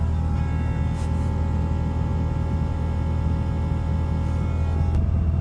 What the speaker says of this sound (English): And you can still hear the freaking fuel pump.